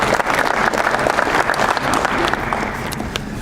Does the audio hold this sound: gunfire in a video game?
no